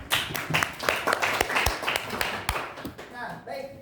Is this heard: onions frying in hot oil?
no